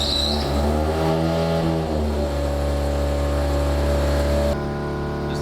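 Rotary-swapped Corvette engine, turbocharged, idling steadily up close after firing up, with a rough pulsing drone and shifting harmonics; near the end it settles lower and smoother as it warms.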